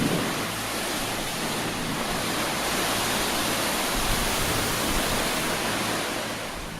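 Steady broadband rush of water in a large wave flume, where a single paddle generates a 10 centimeter wave, continuous and fairly loud with no voices over it.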